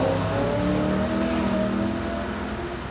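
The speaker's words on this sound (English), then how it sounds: "Oh, listen to that V8." A V8 engine holds a steady, loud revving drone for a few seconds, its pitch drifting slightly as it settles, close by with no voices.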